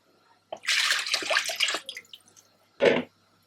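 Water is poured into a pot of rice in a close, splashing rush, then stops; after a pause comes one more short pour.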